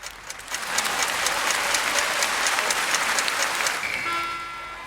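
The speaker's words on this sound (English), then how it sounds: "Applause in order," Audience applause after a speech at a fan battle contest, a steady dense wash of clapping filling the room for several seconds before tapering off near the end.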